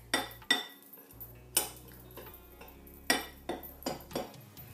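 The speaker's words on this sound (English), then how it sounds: "we're just gonna stir that to combine it" A spoon stirring almond flour and cinnamon in a bowl, giving scattered close clinks and scrapes against the bowl at an uneven pace, fairly quiet overall.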